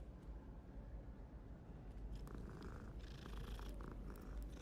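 A pet cat purring softly and steadily up close, a low continuous rumble with faint higher noises joining partway through.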